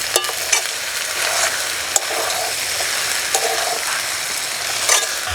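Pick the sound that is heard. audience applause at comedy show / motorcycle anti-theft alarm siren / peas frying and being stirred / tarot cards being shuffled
peas frying and being stirred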